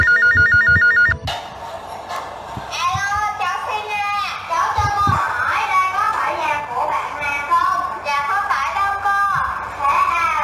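A telephone rings with a steady repeating electronic tone for about a second, then children's voices act out a wrong-number call at home over soft background music.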